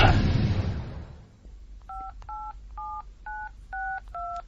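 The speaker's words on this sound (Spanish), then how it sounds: "Intentar llamar a un número extraño y larguísimo." Keypad tones of a telephone dialing a mobile number ring out as a series of about seven evenly spaced dual-pitch beeps, clear and close, after a burst of noisy static fades away.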